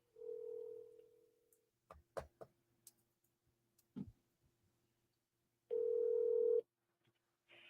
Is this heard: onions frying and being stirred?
no